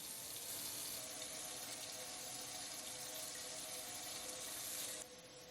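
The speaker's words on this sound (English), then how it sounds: "The water is running clear." Water runs steadily from a tap in a sink while hair braids are rinsed, a constant close splashing hiss that drops off abruptly near the end.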